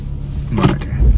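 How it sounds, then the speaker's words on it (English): Electric power windows of a VW Mk4 R32 being raised, heard as a brief, close motor whir and rustle over a low idling hum, with no talking. "The windows are going up."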